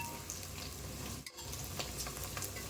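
Sliced onions frying and sizzling in a pan for a veg dum biryani, a steady close crackle with a few stirring scrapes and a brief dip in the middle, no talking.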